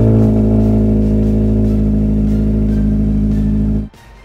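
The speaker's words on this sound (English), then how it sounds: "we can restart the vehicle" 2022 Subaru WRX engine after a tune, idling steadily and loudly up close with a deep, even rumble for several seconds before cutting off abruptly near the end.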